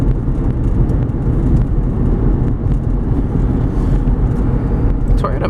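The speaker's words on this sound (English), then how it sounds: "As we accelerate going up an incline, the vehicle does beautifully." A 2004 Toyota Highlander Base FWD accelerates up an incline, its engine and road noise forming a steady, loud low rumble from inside the cabin, with a brief rise near the end.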